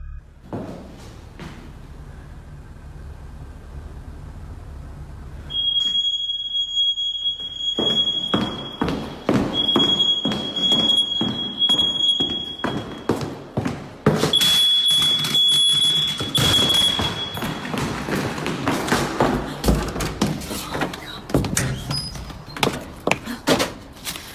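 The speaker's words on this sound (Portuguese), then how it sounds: "O que parece ser um sensor de fumaça começa a fazer barulho" Quiet room noise, then a high, shrill smoke alarm chirps repeatedly in bursts, with thumps and rustling movement nearby.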